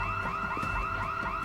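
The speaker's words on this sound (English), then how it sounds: "I presume that's an alarm from the petrol station or attached shop." Petrol station alarm in Project Zomboid, a rapid repeating warbling electronic tone that cycles steadily and loudly without pause, carrying no voices.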